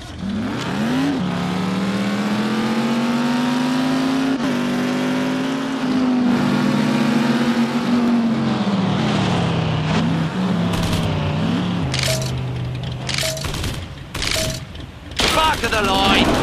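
Race cars in The Saboteur rev their engines at a country race start line, with a loud sustained engine drone that rises and falls, and bursts of gunfire-like cracks and other game effects near the end.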